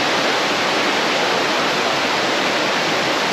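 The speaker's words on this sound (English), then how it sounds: "You can hear me over the water." The waterfall at Straw Falls, a tributary of the Erskine River, rushes in a constant, loud, close wash of falling water with no other sounds.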